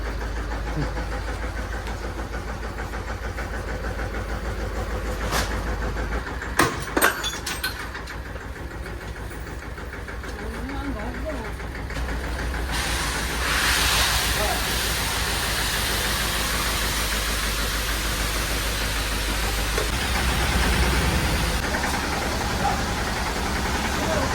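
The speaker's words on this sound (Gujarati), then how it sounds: "તો બાજરાનું ટ્રેક્ટર આમ આવી ગયું છે." Farm tractor hauling millet, its engine rumbling steadily and loudly throughout with a low, continuous drone, a few brief knocks around the middle, and the sound swelling slightly in the second half as it draws closer.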